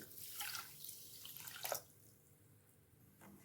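A cup of water is poured into a pan with sugar to make syrup for wheat malpua. A soft, close pouring splash lasts under two seconds, then gives way to quiet with a faint drip near the end.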